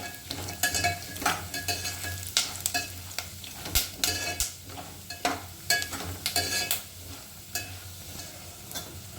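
Garlic fries in a pan while a spoon stirs it, a soft continuous sizzle punctuated by frequent close metallic scrapes and taps against the pan, with nobody speaking.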